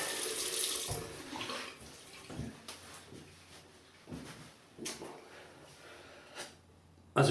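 Tap water runs into a sink over steady background noise while someone wets their face before shaving, with scattered splashes and small knocks and no talking.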